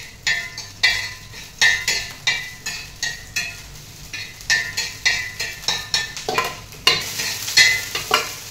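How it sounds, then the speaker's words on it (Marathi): Green chillies fry in oil with a crisp sizzle, and a spoon scrapes the pan in regular, close strokes roughly once a second. "त्यातच ही हिरवी मिरची टाकूया अशी"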